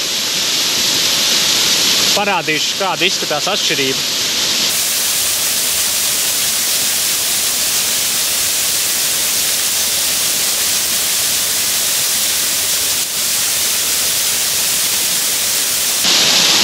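A waterfall roars as a dense, steady rush of falling water, loud and close throughout, while someone talks briefly over it near the start.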